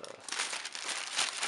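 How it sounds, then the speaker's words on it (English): Black paper crinkles inside an Adidas ZX Flux shoe box, a close, crisp rustle of crumpling sheets that rises and falls in short bursts over about a second and a half, with no talk. "inside you do have the black paper"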